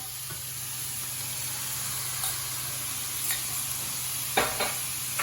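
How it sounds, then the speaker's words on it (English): A creamy garlic pepper sauce with melted beef stock cube is stirred in a pan, a soft continuous simmering hiss with a few faint spoon taps near the end, close and steady with no voices. "Stir that round."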